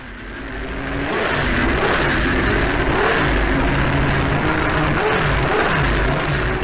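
A Toyota TS010 race car with a 3.5-liter V10 engine revs hard and loud, the engine note rising and holding steady with repeated high-pitched surges, close and alone without any voices.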